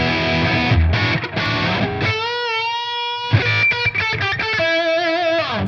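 Electric guitar played through a ToneX pedal using a Jack Victory V30 Mark II amp model, loud and distorted, with chunky low chugs giving way to sustained ringing chords and bright held notes.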